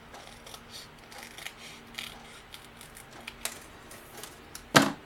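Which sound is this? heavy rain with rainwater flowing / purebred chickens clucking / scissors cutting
scissors cutting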